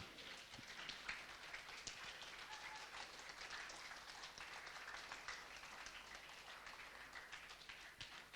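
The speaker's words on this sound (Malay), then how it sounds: "Berikan tepukan." Applause at a school Quran completion ceremony, a steady wash of many hands clapping, fairly distant and even throughout.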